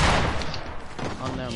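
Dual pistols firing in a video game, a quick flurry of overlapping shots in a dense burst, with a voice talking over the shooting.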